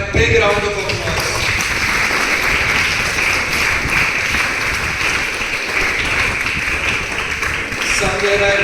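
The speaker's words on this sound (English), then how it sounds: "a big round of applause" An audience at a school event gives loud, sustained applause for several seconds, with dense crowd clapping that fills the room and a voice heard at the start and end.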